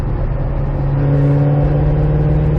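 A 2005 Chevrolet Corvette engine with slight hesitation drones loudly and steadily at highway speed from inside the car, its hum rising slightly in pitch, with road noise underneath.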